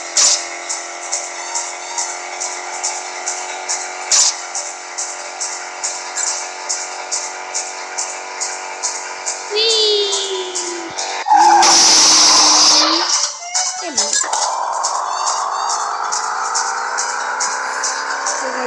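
A Lamborghini in the video game Turbo 3D car racing, its engine droning steadily with rhythmic shifting pulses, then a loud tire screech from a skid midway before the engine revs back up.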